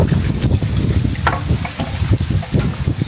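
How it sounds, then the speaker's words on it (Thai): Outdoors during mushroom foraging, wind blows hard across the microphone, making a continuous low rumbling buffet with uneven gusts and no clear voices. "ลมพัดเย็นสบายนะครับ"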